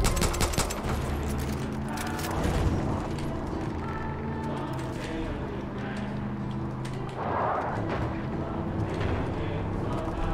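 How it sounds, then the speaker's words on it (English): Repeated shotgun blasts ring out in the Far Cry 5 video game, loud bursts over a dense, continuous bed of game noise and mechanical clatter, with no pause between the shots and the background. "Someone's firing a shotgun in there."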